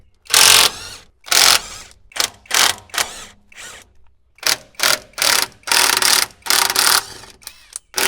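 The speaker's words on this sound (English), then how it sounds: "So I'm going to start by taking this cover plate off" A hand ratchet unfastening the bolts of a cover plate on a farm manure tank, heard up close as loud bursts of rapid clicking, about a dozen separate strokes with brief pauses between, no speech.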